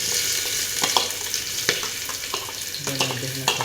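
Onions being fried in hot oil while cooking, with a steady close sizzle and crackle running throughout, scattered clinks and spatters on top, no voices.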